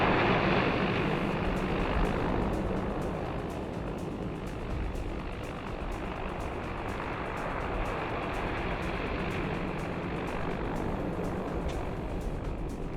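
A Beechcraft Bonanza light propeller aircraft taxis to park, its engine a steady, close, unbroken drone that holds at an even level throughout, with no talking.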